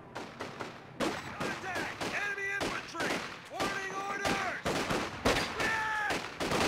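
A captured Browning machine gun fires in Company of Heroes 2 amid steady battle noise, with rattling bursts and thuds mixed under a commentator's voice.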